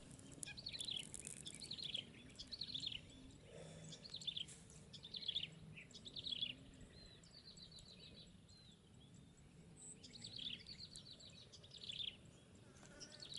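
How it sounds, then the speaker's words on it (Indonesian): Several birds chirp and trill in repeated short phrases against a quiet outdoor background, with faint insect-like buzzing underneath. "Suara burung di alam begitu harmonis, menyejukkan hati, dan bahagia mendengarnya."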